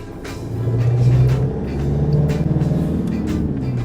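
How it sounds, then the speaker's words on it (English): A motorhome engine revs under strain, a steady loud low rumble that swells and eases in long surges without climbing freely, close by and alone. "As in I'm trying to rev it, it doesn't really want to go anywhere"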